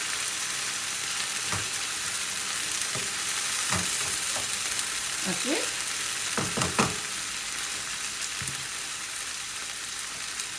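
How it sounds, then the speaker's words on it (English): Anglo-Indian chicken curry ingredients frying in a pan, a constant close sizzle with scattered scrapes and knocks of stirring, and a brief spoken word. "can see it's frying well."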